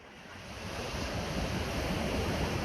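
Waves wash onto the shingle of Chesil Beach at West Bexington on a cold day, a soft, steady rushing surf that builds slightly and continues, with some wind noise.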